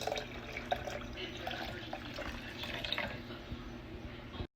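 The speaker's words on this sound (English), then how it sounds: "now we're gonna add the water" Water is poured steadily into a cup of ginger, lemon and garlic tea, a continuous soft splashing trickle at close range that runs without a break until it stops abruptly.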